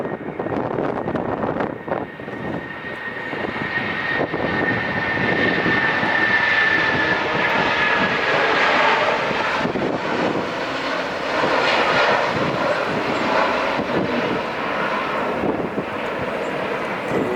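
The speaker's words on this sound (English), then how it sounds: "He is on the takeoff roll now." A jet airliner roars down the runway on its takeoff roll at LAX, a loud, sustained engine rush that swells and holds with a rising whine and some wind buffeting, with no talking.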